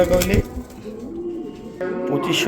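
A male settle homer pigeon for sale gives low, throaty coos at close range, mixed with a nearby voice and background noise.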